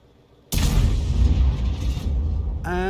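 A tank round slamming into an M12 in a video game; one sudden, loud boom bursts in after a quiet moment and rumbles on with a heavy, slowly fading roar.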